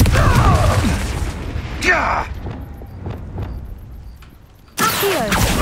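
Blasting and casting spells, including Confringo, ring out in the Hogwarts Legacy game: bursts, booms and magical whooshes sound close and loud in a busy mix, with a sharp effect near the middle and a loud return of noise near the end.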